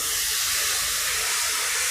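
Water splashing into a hot pan of spiced chicken curry masala, a loud, continuous steamy hiss that fills the whole moment, close up.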